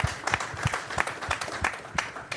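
At the Laureus Sports Awards 2020 ceremony, the audience applauds football manager Fabio Capello with a thin, scattered patter of individual claps, fairly quiet and irregular throughout.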